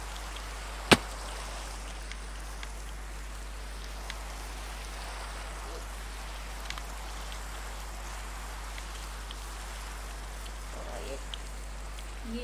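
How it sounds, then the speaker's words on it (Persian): Steady soft hiss of rain in a Minecraft game fills the background, with one sharp click near the start and a few faint ticks scattered through. "چه بارون مزخرفی"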